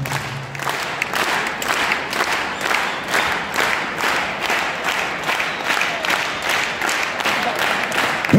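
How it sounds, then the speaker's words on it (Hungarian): Crowd applause at a boxing event in Hungary, dense rhythmic clapping in unison from a large audience, loud and steady throughout with cheering mixed in. "Tényleg most egy olyan vastaps, hogy hallják Amerikába"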